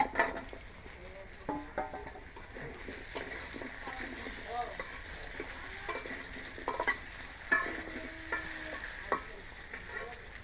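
Potatoes go into a kadai of hot oil with browned onions and are stirred, a steady sizzle broken by repeated scraping and clinks of a utensil against the pan.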